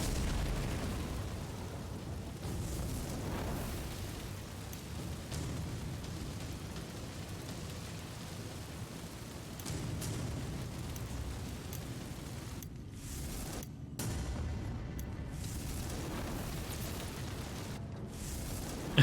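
Fire attack explosions in the video game Necromunda: Underhive Wars, a steady roaring, crackling wash of blasts and flames that holds at a moderate level throughout, with a few brief dropouts, no talk.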